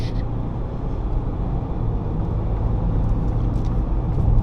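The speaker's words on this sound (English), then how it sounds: "Once you put your foot down, it's like, hey, do you want to go?" 2024 Ford Ranger Platinum V6 pickup accelerating on the road, a steady low engine and tyre rumble heard from inside the cab that swells gradually louder toward the end.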